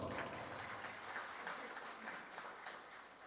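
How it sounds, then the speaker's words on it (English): Sustained audience applause filling a conference hall at an international event on artificial intelligence and cybersecurity, a dense, steady clatter of many hands clapping at once for several seconds with no voices over it. "A big round of applause."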